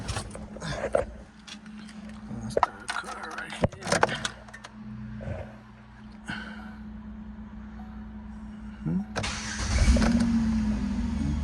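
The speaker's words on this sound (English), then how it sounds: "Okay, so we wanna start the car." A Chevy Equinox engine cranks and turns over amid clicks and cabin handling noises, then settles into a steady idle with a rising whir near the end.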